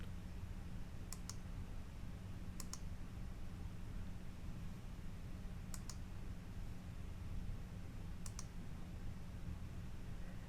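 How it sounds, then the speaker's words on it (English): Computer mouse clicking in quiet double clicks, four pairs spaced a few seconds apart over a faint steady hiss, with no one talking. "I'm going to click on the Add button, and I'm going to browse to a new icon."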